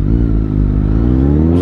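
A Mercedes-AMG A45 S engine drones loud and close with a steady, slowly rising pitch as it pulls hard.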